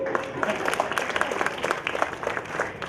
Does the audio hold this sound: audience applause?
yes